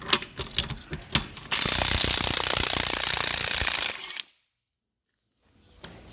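An impact wrench hammers at an exhaust bolt on a Porsche 911 997, with a few clanks, then a loud sustained burst of rapid rattling impacts, followed by silence and faint shop noise.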